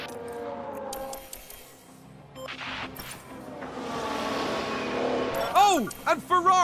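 Formula 1 cars roar past in the F1 Manager 22 racing game at the Australian Grand Prix, their engines rising and falling in pitch with sharp whining passes near the end, heard under a commentator's voice.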